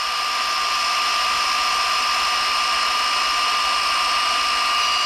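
A rotary polisher buffing with polishing paste, giving a loud, steady high-pitched whir at a constant speed with no pauses or talk.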